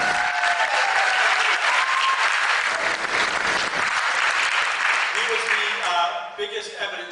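Sustained audience applause at a live debate on whether God exists, steady and dense throughout, with faint voices emerging beneath it as the clapping thins near the end.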